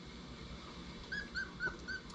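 A small dog whimpers in four short, faint, high whines, spaced about a quarter second apart, over a low background rumble.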